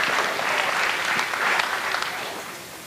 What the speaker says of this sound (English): So one more big round of applause for every student that's there.